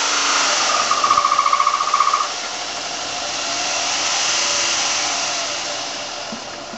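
Electric motor on a 1000 amp controller drawing about 100 amps, a steady loud whine with a short rapid pulsing burst early on that settles into a smooth, slowly swelling hum, no speech.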